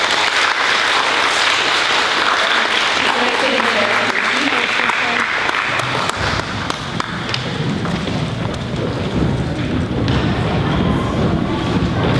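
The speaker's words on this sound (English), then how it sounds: "Let's give them a round of applause." Sustained, loud clapping from an audience at a fifth grade recognition day honoring students, a dense continuous wash of claps that fills the whole stretch, with voices mixed in.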